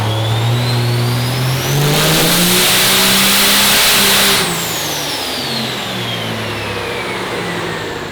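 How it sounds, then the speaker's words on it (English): A 2012 project car with big compound turbos and a little nitrous revs hard on a dyno, the engine climbing steeply in pitch, holding at a loud peak with a roaring rush, then winding back down, close and alone. "We got to get this thing on the dyno, run it through its paces, and see what kind of power we can make with it today."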